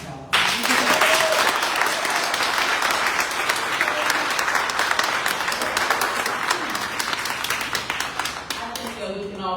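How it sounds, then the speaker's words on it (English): An audience at a film screening and community discussion bursts into sustained applause, a loud, dense wash of clapping that starts abruptly and continues steadily for several seconds before thinning toward the end. "Please join me in giving the pass a round of applause."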